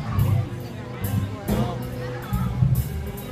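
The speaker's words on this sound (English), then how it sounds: "into the music crowd here" A dense crowd murmurs around street music on a boardwalk at night, with continuous overlapping voices and a low steady rumble, close and unbroken throughout.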